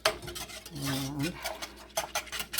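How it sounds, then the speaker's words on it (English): A whisk scrapes and stirs custard in a metal pot in quick, uneven rubbing strokes that clink against the sides, close and fairly quiet, with a brief voice-like hum partway through. "just keep whisking"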